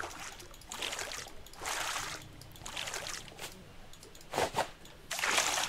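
Paddle strokes push a raft through water in the survival game Raft, giving a series of soft, rhythmic splashes and swishes roughly every second, fairly quiet and close.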